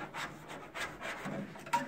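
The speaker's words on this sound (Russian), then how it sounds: "Как это все пилится." Hand saw cutting through the roof of a Lada Kalina car: rough, rasping back-and-forth strokes at a steady, irregular pace, close and moderately loud, with no talk.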